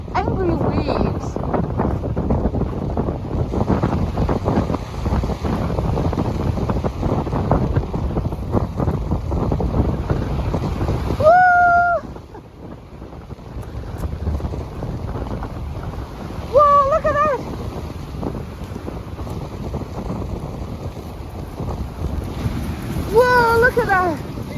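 Atlantic Ocean waves on the Gaspé Peninsula during a blizzard roll and wash under heavy, roaring wind buffeting the microphone, while people talk and shout excitedly nearby.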